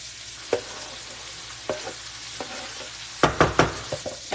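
Sliced mushrooms and onion frying in a pan for chicken marsala, a low steady sizzle punctuated by several sharp scraping stirs and clatters, heaviest in a quick cluster near the end.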